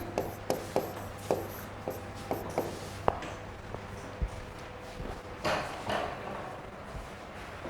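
Chalk or marker tapping and scraping on a board during a lecture on bidirectional RNNs and language modeling, a series of sharp knocks and short scratches in a quiet room with no talk.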